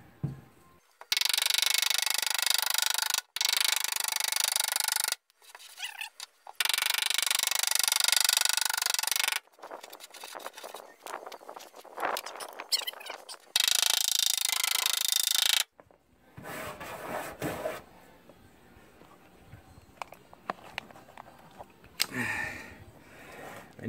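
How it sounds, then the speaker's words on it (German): Hammering on the sheet metal of an Opel Kadett C wheel arch, loud sharp bursts of repeated metallic blows in several long runs separated by pauses, then quieter clattering and handling noises. "Ich fange jetzt mal das Klopfen an, wenn es zu laut wird, einfach Ohren zu halten oder Ton leiser stellen."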